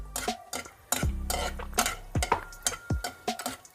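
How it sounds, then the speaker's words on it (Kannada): Cashews being fried in a pan for a sweet festive khichdi, heard as close, sharp clinks and scrapes of a spoon against the pan in irregular bursts, with a faint sizzle between the strokes. "ಗೋಡಂಬಿ ಸ್ವಲ್ಪ ಫ್ರೈ ಆಗಲಿ"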